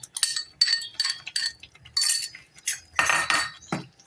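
A spoon stirs spiced curd into tomato puree in a bowl for kaju masala gravy, giving repeated close, bright clinks and scrapes against the bowl in an uneven rhythm.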